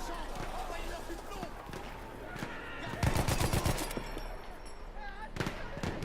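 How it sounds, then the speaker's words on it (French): Machine gun fire in the video game Battlefield 1, with rapid bursts of shots, heaviest in a dense volley midway, set against a busy battle din while someone talks over it. "donc là on contrôle une mitrailleuse"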